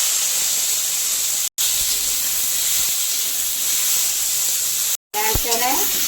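Hog plums drop into hot mustard oil tempered with dried red chilli and black mustard seeds, giving a loud, steady sizzle and hiss that runs throughout, broken by two brief cuts, with a bubbling burst near the end.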